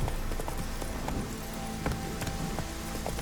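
Horse hooves clip-clop at a trot in the video game The Witcher 3, a fairly faint, uneven run of hoofbeats over a soft noisy background.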